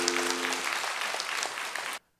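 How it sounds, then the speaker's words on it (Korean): A church congregation claps warmly in a thick, steady round of applause, with a faint low hum at first, then it cuts off abruptly into near silence. "박수로 뜨겁게 감사합시다."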